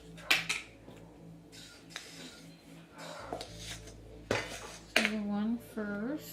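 Metal measuring spoons clink and scrape against a container while scooping baking powder, a few light clatters with a short voice in between.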